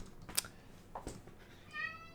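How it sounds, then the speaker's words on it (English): A house cat meows a few times while trying to get out of a closed room, the calls short and indoors at moderate distance, with quiet gaps between them. "my cat is trying to get out of my room"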